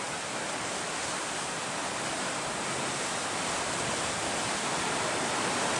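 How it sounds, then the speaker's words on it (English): Swollen creek at Olive Mill Road in Montecito, one hour after an inch of rain fell in an hour, rushing in a steady, loud, broadband roar of turbulent water that holds unbroken from start to finish, with no voices. "Olive Mill, Montecito Creek, 1 hour after a 1-inch rain in 1 hour."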